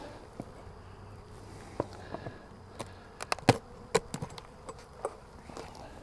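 Honey bees buzz around a hive treated with Hop Guard for mites, a steady close hum broken by sharp knocks and clicks of hive handling, with no voices.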